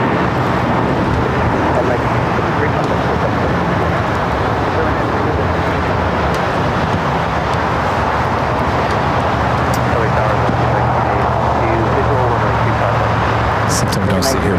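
An Air New Zealand Boeing 787 Dreamliner on short final for runway 25 left at LAX, giving a steady broadband jet roar mixed with traffic noise across the airport, with a person talking over it.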